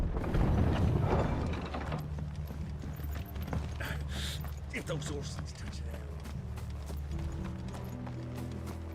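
Rhythmic clip-clop of hooves in the video game Final Fantasy 16 over a steady low rumble and mechanical clatter, with a voice talking through much of it.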